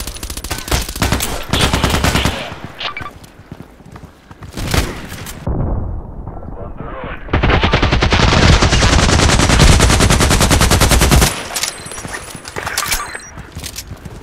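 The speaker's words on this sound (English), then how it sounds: "I was just shooting through the wall and trying" AK-12 assault rifle fired in Contract Wars: long, loud bursts of rapid automatic fire with brief pauses between strings, including one sustained burst of several seconds, close and dominant.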